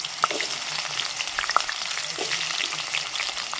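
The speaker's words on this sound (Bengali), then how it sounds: "এরকম একটা বড় সাইজের আলুকে আমি এরকম ছোট ছোট করে কেটেছি দেখো ডুমো ডুমো করে এগুলোকে ভালো করে ভেজে নেব" Diced potatoes frying in oil in a pan, a steady close sizzle with small pops and occasional stirring clicks, no voices.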